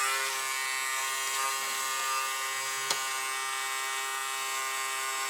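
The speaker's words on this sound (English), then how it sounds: "This is a Dremel with" A Dremel rotary tool used for making a leather knife sheath whines at a steady high pitch, close and continuous, with a brief tick near the middle.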